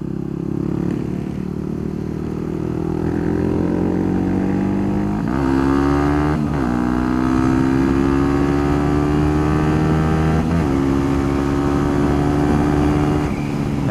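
A Yamaha WR 250 supermoto held at wide open throttle on twisty roads, its engine droning loud and steady with rising harmonic whine, briefly dipping at a few shifts before pulling hard again, with wind rush throughout.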